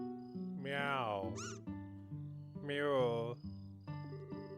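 Two drawn-out cat meows from the video game Trails in the Sky ring out clearly, separated by a short pause, over a quiet background of game sounds.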